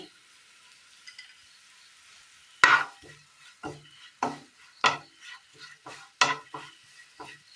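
Coriander, turmeric and chili powders are stirred into roasted sliced onions in a pan for a Kerala curry. After a quiet start comes a run of about eight firm spoon scrapes and clacks over a faint sizzle.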